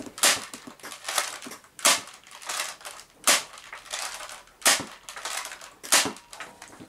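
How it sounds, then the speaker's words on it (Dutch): A modded Hammershot toy blaster loaded with five darts fires repeatedly at close range, each shot a sharp loud crack followed by mechanical clacking and rattling as it is primed again, repeating about every second or so. "Even kijken hoe die schiet hoor"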